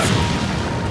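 A Fire Style jutsu attack in Naruto Shippuden: Ultimate Ninja Storm 3 lands as a loud, booming blast that fills the whole second, dense and roaring with a sharp burst at the start.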